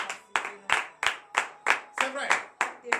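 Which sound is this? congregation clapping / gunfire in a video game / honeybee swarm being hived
congregation clapping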